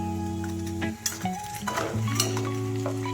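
Apple and peanuts are stirred and fried with jaggery in ghee in a pan, giving a soft sizzle beneath a steady electrical hum, broken by a few scraping clinks of a utensil against the pan.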